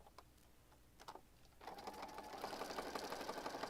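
A sewing machine stitching across junk journal pages starts after a few faint taps and handling sounds, then runs steadily with a fast mechanical whir and rattle, close and moderately loud, no voices.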